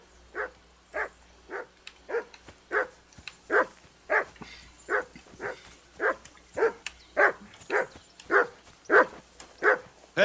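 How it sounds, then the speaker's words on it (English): A dog barks repeatedly in Kingdom Come: Deliverance 2, about fifteen evenly spaced barks at moderate distance, loud and alone over faint background ambience. "Call off that mutt of yours!"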